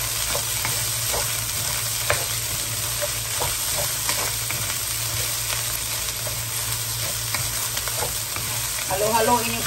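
Fried rice with pork luncheon meat and corn being stirred in a hot pan, with repeated scraping strokes over a steady close sizzle and no voices.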